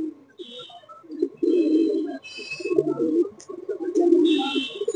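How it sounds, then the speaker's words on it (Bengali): Malwai pigeons coo in low, rolling bursts, several birds close by, with faint higher chirps and background noise between the calls. "মালবাহী পায়রা।"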